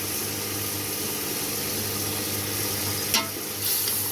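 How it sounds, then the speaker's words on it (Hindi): Chicken frying with dried coriander in a pan, a steady close sizzle holding level throughout with a brief stir or clink near the end. "अब इसको कम से कम 5 से 10 मिनट तक इसको इसी तरह भून लेंगे।"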